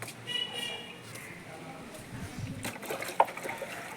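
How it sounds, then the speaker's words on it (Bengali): Water trickles steadily into a two-litre plastic bottle, a soft continuous dribble close by with a few small splashes, while a person talks over it. "দেখো কতটা করে জল আটছে দেখেছো এটা দু লিটারের বোতল"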